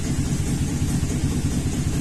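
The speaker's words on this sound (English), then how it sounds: "So now we're running with the exhaust open on that bank, and it still shows misfires on number 6" A 2000 Chevrolet 2500 with a 6.0 V8 runs steadily with the exhaust opened on one bank and misfires present, giving a loud, close, continuous low rumble with an uneven pulsing beat and no voices.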